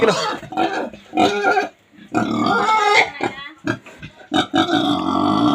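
A pig on an Assam farm grunts and squeals loudly in repeated bursts while its legs are being tied, with people talking and shouting close by.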